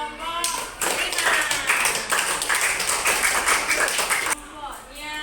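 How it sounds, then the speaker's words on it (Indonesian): Classmates in a classroom clap for a student group, a dense burst of handclaps lasting several seconds, close and fairly loud, with children's voices mixed in before and after. "Tepuk tangan untuk kelompok 5."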